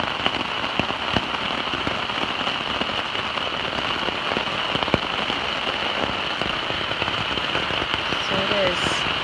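Steady heavy rain pours down, a dense continuous hiss with scattered louder drops pattering on a surface nearby.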